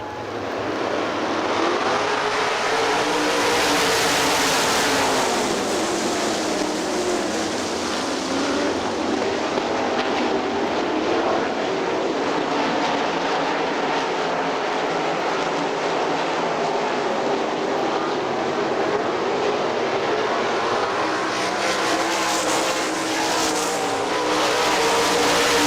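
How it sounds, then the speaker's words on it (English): Sprint cars race a 20-lap feature on the dirt track at Hartford Speedway, their engines making a loud, continuous roar that swells and fades as the pack passes close by. "20-lap SOD feature takes the green out of turn 4."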